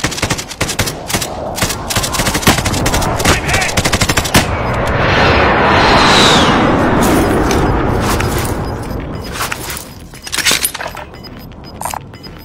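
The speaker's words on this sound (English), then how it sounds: "Friendly precision airstrike inbound." Call of Duty Warzone gameplay: dense bursts of close gunfire and machine-gun rattle, then a swelling rumble from a precision airstrike in the middle, followed by more scattered shots.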